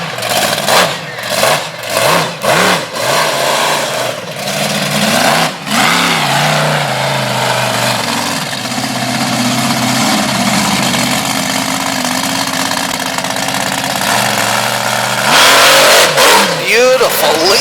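A monster truck engine roars and revs during a freestyle run at a night show, loud bursts then a sustained high-revving drone, with an announcer talking over it.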